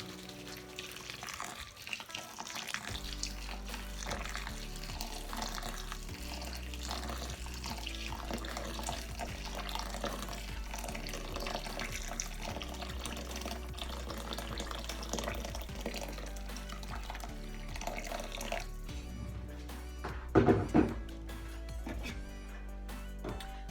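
Hot water streams from a tap into a bowl of jelly mix, a steady close splashing pour lasting over twenty seconds, with a brief clatter near the end.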